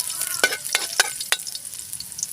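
Onion aromatics sauté in a pan for adobo, a steady sizzle broken by four or five sharp stirring scrapes and clinks, close and clear with no talk.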